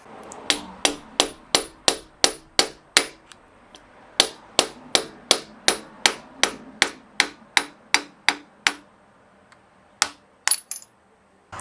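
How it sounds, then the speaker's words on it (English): A hammer taps a metal drain plug out of an RB25 cylinder head in a steady run of sharp, ringing strikes, about two per second, with a brief pause partway and a few final blows. "we're simply going to tap this plug out with a hammer"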